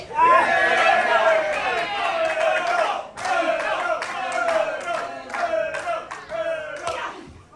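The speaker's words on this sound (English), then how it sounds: "Are we cheering for Murdoch, are we" A loud crowd at a fight show yells, cheers and chants in waves, with rhythmic shouting and clapping bursts in the second half, close and full.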